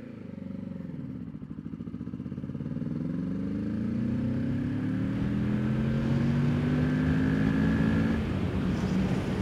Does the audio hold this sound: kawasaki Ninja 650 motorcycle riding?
yes